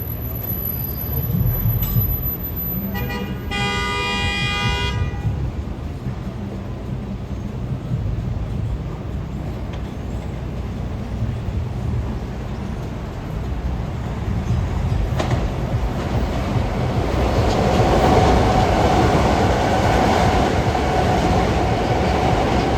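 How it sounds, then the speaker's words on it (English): Croton-Harmon bound commuter train passing on track 4, a loud continuous rumble and clatter of wheels with a brief horn-like tonal burst early on, building steadily as cars roll by. "We have a Corton Harmon bound train that just went by on 4."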